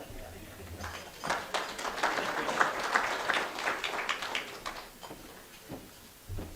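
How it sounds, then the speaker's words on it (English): An audience applauds at a Nairobi foreign-policy review session, a moderate round of clapping that swells and then fades, with voices mixed in. "Let's clap for him again, once again"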